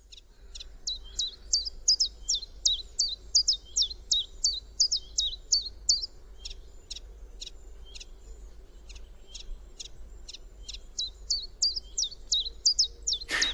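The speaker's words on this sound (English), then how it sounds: "So the first chiff chaffs start to arrive, and these are the heralds of the spring for me" A chiffchaff in Ireland sings its repeated two-note song, a run of sharp, evenly spaced chirps, then a pause, then another run, fairly close and clear over a quiet background.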